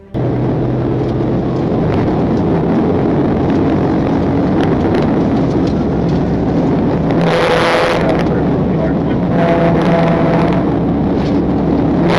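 A Can-Am Spyder three-wheeled motorcycle accelerates away during a high-speed police pursuit through city streets, a steady loud engine roar with road and wind noise, surging midway, with no voices.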